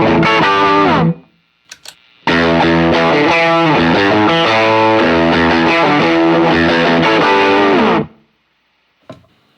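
An electric guitar runs through a V2 Kilt overdrive pedal, sounding a gritty, distorted chord passage that rings out loud and alone after a short opening phrase and a pause.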